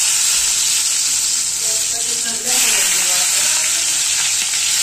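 Masala-stuffed brinjals fry in hot oil with a loud, close, continuous sizzle and hiss, a brief dip midway as they are moved, then full sizzling again.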